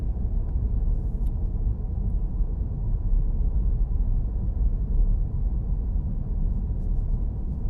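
Steady low rumble of a car's road noise while driving, continuous and even throughout with no talking.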